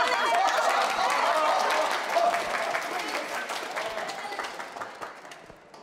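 Audience clapping in a crowded room after a mother rises to sing opera, loud at first and gradually fading, with scattered voices mixed in.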